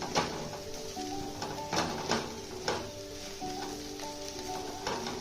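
Okra pieces frying in a pan with garlic chili powder while being stirred, a soft steady sizzle punctuated by regular scraping and clinking strokes of the spatula, fairly quiet and close.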